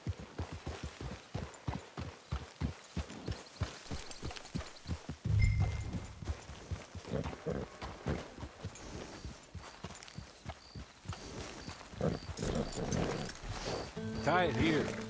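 Horse hooves clip-clop in a steady rhythmic gait through Red Dead Redemption 2, close and prominent, slowing and breaking up midway as a horse snorts and game sounds rise, with voices talking over parts of it.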